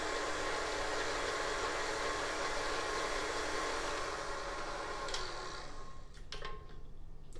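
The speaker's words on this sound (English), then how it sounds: "I'm going to give this a little stir with the mixer just to break that egg up." An electric mixer whirs steadily as it beats eggs in a bowl, a loud continuous motor buzz that cuts off near the end, followed by a few light clicks and knocks.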